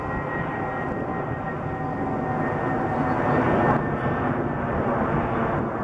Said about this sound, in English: There's one of the jets overhead from John Wayne Airport.